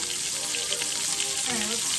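Meatballs frying in a pan on medium-high heat, producing a dense, steady sizzle with crackling pops, close and constant throughout.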